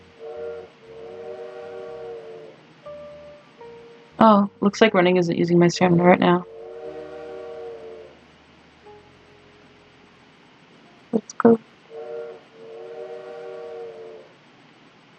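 A loud, brief train-whistle-like hoot with a shrill, wavering tone from a bird imitating a train whistle in Little Witch in the Woods, standing out between stretches of game music and a voice talking; a shorter chirp follows later.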